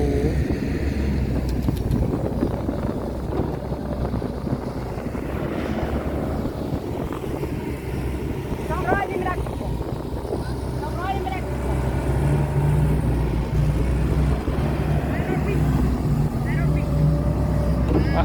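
A new backhoe excavator works a dusty dig site, its diesel engine droning steadily and close for the whole stretch, with faint voices underneath.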